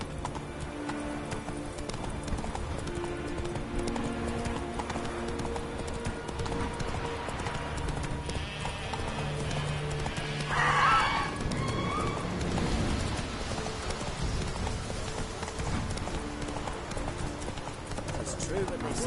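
Hooves of the horse Roach clip-clop steadily through a long gallop in the video game The Witcher 3, with an occasional whinny, faint birdsong and game music, while people talk over it.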